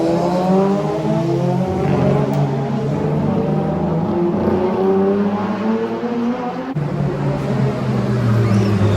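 Renault 21 Turbo rally car and other rally-type cars lap a tarmac street circuit, their loud engines droning and revving continuously nearby with shifting pitch and no talk.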